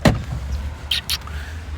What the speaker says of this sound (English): Yeah, I'm just letting someone in the car.